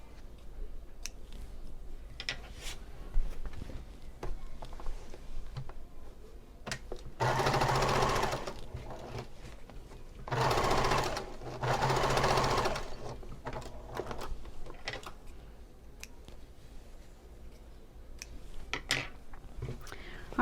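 A sewing machine stitching pleated pillow sham fabric runs in several bursts of rapid, buzzing stitching separated by quieter pauses with small clicks and handling noises, heard up close.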